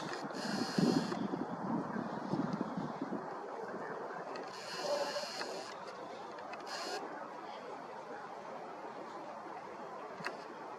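Gusty wind blowing outdoors at night in Kharkiv, a steady rushing roar with stronger hissing bursts near the start and middle, close to the microphone.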